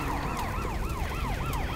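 Alarm siren in the Resident Evil 6 video game, a rapid repeating electronic whoop cycling several times a second, loud and continuous over a dense background din.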